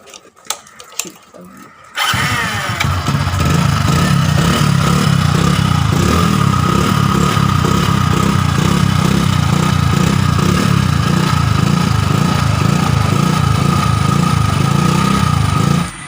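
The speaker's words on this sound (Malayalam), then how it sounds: "നമ്മുടെ ബൈക്കിൻ്റെ ഒറിജിനൽ സൗണ്ട് അതിനാണ് കാണിച്ചു തരാം" A KTM Duke motorcycle runs on its original exhaust, a steady, close engine drone with a pulsing low rumble that holds for about fourteen seconds after a brief quiet start with some handling noise.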